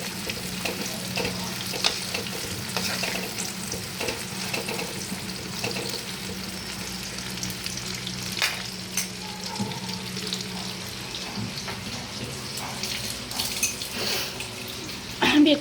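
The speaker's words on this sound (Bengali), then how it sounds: "বেগুনটা একটু এপিট ওপিট করে ফ্রাই করে নেব।" Eggplant frying in a pan for a hilsa fish curry, a moderate sizzle under occasional clinks and spatula scrapes as the slices are turned, with faint water-like splashing.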